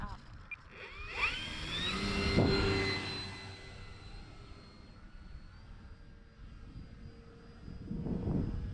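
An E-flite Draco RC plane flies overhead, its engine whine rising and sweeping in pitch as it passes close, then fading and returning faintly near the end, with no voices.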